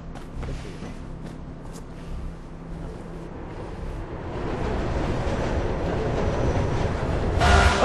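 Trains in the Mirror's Edge video game rumble past with a steady, rising roar that swells louder toward the end, with a sharp hiss near the close and no speech.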